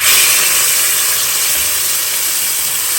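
A hot oil tempering sizzles as it is poured into a buttermilk curry (majjige huli). A loud, continuous hiss lasts throughout, close and unbroken, with no voices.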